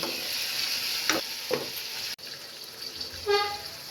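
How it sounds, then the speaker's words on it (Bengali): Potatoes being stirred into an eggplant and tomato curry in a pan, a low simmering sizzle with a couple of distinct scraping strokes of the spoon, close and moderately loud, no talking. "আলু দেওয়ার পর সেটা ভালোভাবে মিশিয়ে নেব।"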